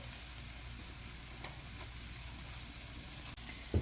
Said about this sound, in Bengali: মাঝারি জালে কাঁচামরিচ দিয়ে দু মিনিট মতো আমি ভাজলাম